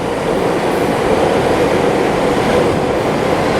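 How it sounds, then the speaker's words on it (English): JR Yamanote line train in Tokyo rumbles loudly and continuously, a close, dense roar of rolling wheels and carriage noise with no pauses. "walk to Yoji Station to catch a train. The Yamanote line of JR, Japan Railways."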